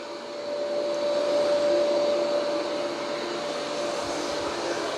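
A Roborock Curv 2 robot vacuum runs in vacuum-and-mop mode on a home floor, giving off a steady, close whirring hum with a thin whine on top and no talk.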